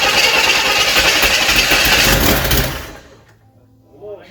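A six-cylinder engine cranks loudly and steadily on its first start attempt for nearly three seconds, then stops without catching, leaving quiet with a brief voice at the end.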